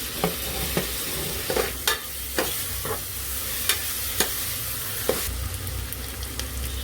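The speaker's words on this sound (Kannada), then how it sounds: "ಚಿಲ್ಲಿ ಅಂದರೆ ಹಸಿಮೆಣಸಿನ್ಕಾಯಿ ಹುರ್ಕೋಬೇಕು" Green chillies, onion and tomato sizzling in oil for egg biryani, a steady close crackle broken by regular sharp taps and scrapes of a spoon stirring the pan.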